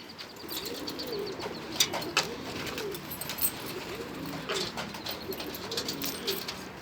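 Soft, repeated cooing of pigeons nearby, low and throaty, over a light outdoor hiss with occasional chirps.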